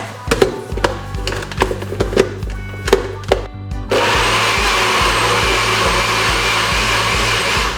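A large blender makes a smoothie, first thumping and clattering in short bursts, then running as a loud, steady whir that continues to the end.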